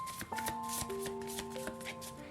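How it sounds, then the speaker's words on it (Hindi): Tarot cards are shuffled close up in quick, rustling riffles and soft slaps, repeating throughout under gentle background music. "तो चलिए शफल कर लेते हैं"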